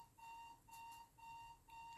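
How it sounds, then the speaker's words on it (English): An 1887-era setting's alarm clock rings in four evenly spaced bursts of bright, steady beeping with short gaps between, loud and close with no talk. "Oh boy, there's the alarm."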